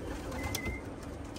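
Racing pigeons at a 20-mile toss release give soft, low cooing calls under a faint outdoor hiss, a few brief murmurs over about a second and a half.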